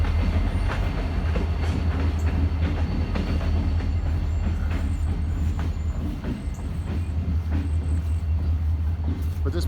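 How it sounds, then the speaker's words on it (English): A train rumbles steadily past at a distance, with low engine drone and faint rhythmic clatter of wheels on rails throughout. "there's a train that's going by"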